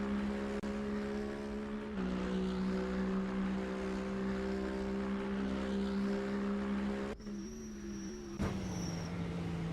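GT truck racing through Curva Parabolica in an iRacing-style sim, a steady droning engine note that holds at even pitch, dips briefly, then carries on with a sharp high whine layered near the end.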